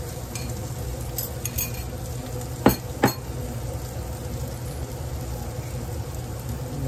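Whisked eggs, three of them, cook in melted butter in a pan, giving a steady soft sizzle with a couple of sharp utensil clinks partway through.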